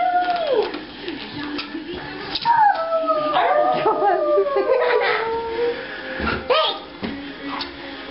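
A person imitates a werewolf howl, a long wavering vocal wail that rises and falls over several seconds, loud and close, with yips and a brief break before a final howl.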